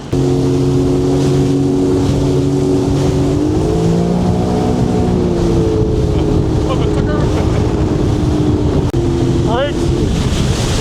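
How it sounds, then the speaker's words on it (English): A Sea-Doo personal watercraft engine runs loud and close on open water, a steady droning hum whose pitch shifts slightly up and down, mixed with heavy wind rush throughout. "I haven't shut the engine off"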